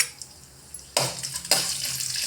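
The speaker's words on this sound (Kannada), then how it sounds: "ಸ್ವಲ್ಪ ಬಿಸಿ ಆತಂದ್ರೆ ಮೊದಲು ಅದಕ್ಕೆ ಮೆಂತ್ಯ ಹಾಕ್ಕೊಂಡು ಅದನ್ನು ಬಿಸಿ ಮಾಡಿಕೊಡ್ರಿ." Fenugreek seeds stir-roasting in a warm pan for red chilli garlic chutney, a quiet start giving way to two loud bursts of scraping and rattling around the one- and one-and-a-half-second marks, continuing as steady frying noise.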